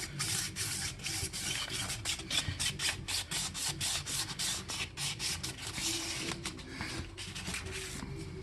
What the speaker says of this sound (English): So you keep sanding like this in a round circle.